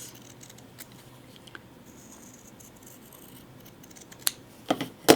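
Scissors trim the fabric seam allowance on a pillow, with soft rustling handling and faint snips followed by a few crisp, louder cuts near the end, close by and with no talking.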